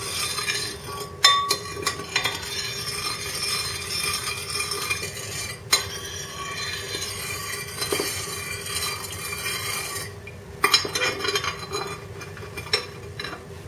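A spoon stirs a tofu marinade with sugar in a bowl, producing a steady scraping swirl punctuated by occasional light clinks against the dish, close and moderately quiet with no voices.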